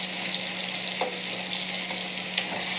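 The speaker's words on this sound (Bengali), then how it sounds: "টমেটোটা একটু নাড়াচাড়া করছি, নুন দিয়েছি তো ওখানে এক্ষুনি নরম হয়ে যাবে।" Salted tomatoes fry in a pan over a low gas flame and are stirred, producing a continuous loud sizzle with a few sharp scrapes and taps from the spoon, no talking.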